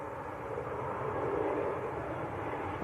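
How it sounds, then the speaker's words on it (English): Embraer 190 airliner from Lisbon landing at Manchester Airport, a brief steady broadband engine roar at a distance, fairly faint and continuous. "Always land very nose up, these Embraers."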